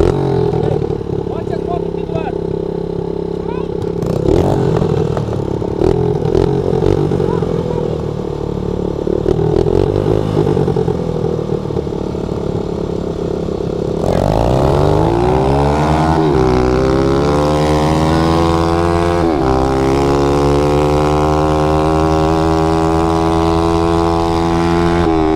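Mini motorbikes race with small engines buzzing loudly and close, the pitch rising in repeated climbing sweeps as they accelerate, with people talking over the noise.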